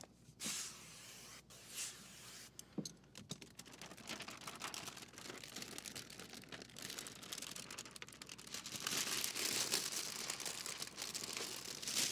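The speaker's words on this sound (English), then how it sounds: "There's my sprayer." A hand sprayer mists water during ceramic window tint installation on an Audi, producing short and longer airy hissing bursts mixed with crinkling of film, fairly quiet with brief pauses between sprays.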